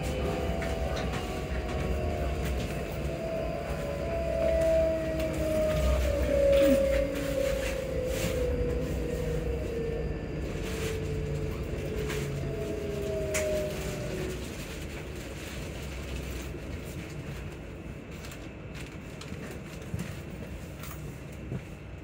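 A passenger train bound for Edinburgh Waverley rumbles along steadily, its low, continuous drone carrying a few faint tonal whines on top, heard from inside the carriage.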